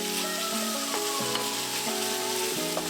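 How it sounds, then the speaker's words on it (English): Chopped courgettes and red peppers sauté in a pan, a continuous bright hiss of frying under a steady tonal musical backing, with no voices. "add the chopped courgettes and red peppers and cook for a further minute"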